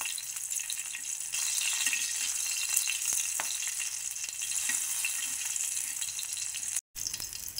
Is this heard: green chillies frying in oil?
yes